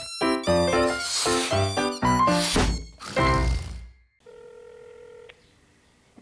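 Telephone keypad tones and a ring signal from a TV drama scene sound alone after a burst of loud, overlapping voices, a few short beeps followed by a steady tone.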